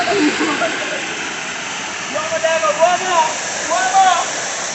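A waterfall at a temple gives off a constant broad roar of falling water, with voices chattering over it.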